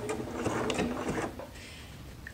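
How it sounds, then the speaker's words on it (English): A sewing machine stitches a small zigzag along a seam in liquid lamé fabric, a fast mechanical whirring chatter that runs for over a second and then trails off into quieter motor hum. "You see how the machine does a very small zigzag?"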